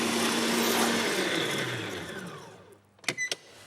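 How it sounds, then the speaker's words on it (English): An electric mixer whisks egg whites at full speed, a loud whirring motor drone that gradually winds down and stops after a few seconds, followed by a couple of short, sharp tones. "Turn the mixer on full speed"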